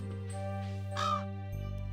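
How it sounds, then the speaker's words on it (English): A crow caws once amid steady video game background music, a short harsh call rising briefly over the sustained tones. "Is that crow selling things?"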